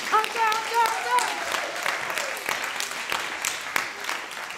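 An audience applauds at a plurilingual Kamishibai contest prize ceremony, steady, lively clapping heard close, with a few sung or spoken voice fragments riding over the start.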